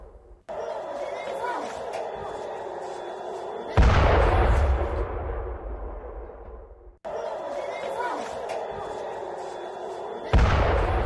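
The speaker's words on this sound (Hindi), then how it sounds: "रॉकेट अटैक हो रहे हैं।" Loud booming blasts from rocket attacks on residential areas of Tel Aviv during a night of strikes, two heavy explosions each rolling into a long rumbling decay over a dense, noisy background.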